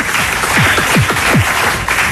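Studio audience applauding graduates who just passed their baccalaureate, a steady broadband wash of clapping with a few low swooping tones underneath, continuous and fairly loud for about two seconds.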